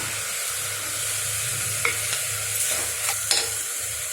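Curry leaves and dried red chilies fry in hot oil with a steady, close sizzle, and a few sharp clinks of a spoon stirring the pan break through the hiss.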